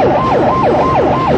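A police car siren wails close and loud, a steady rising-and-falling electronic sweep repeating about every third of a second, with no voices over it.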